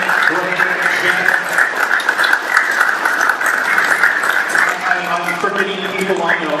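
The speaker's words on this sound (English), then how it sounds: "Can I get a round of applause for everybody that did the IT Summit?" An indoor audience at an IT Summit applauds steadily for several seconds, a dense wash of clapping with voices mixed in and a speaker starting to talk near the end.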